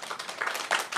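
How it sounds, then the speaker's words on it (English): A short burst of clapping from a crowd, a fairly dense patter of hands that rises and falls over about a second. "we need to give a stronger round of applause to the performers"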